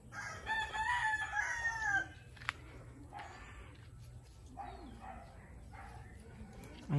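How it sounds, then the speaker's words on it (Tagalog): Chickens and a rooster on a farm: loud crowing opens the scene, followed by scattered clucks and fowl calls, with what may be a dog barking faintly amid the outdoor ambience. "Ayan, ang daming manok na."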